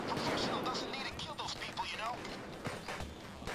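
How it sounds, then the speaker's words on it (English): A frag grenade bursts in a video game with a loud, rough blast at the start, followed by a rumbling, crackling tail while excited voices talk over it. "I pressed 3 and threw a frag grenade"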